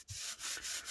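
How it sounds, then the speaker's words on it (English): A die-cut paper piece is burnished onto a card with a few quick, close rubbing strokes, a soft dry scraping heard alone. "Burnish that down."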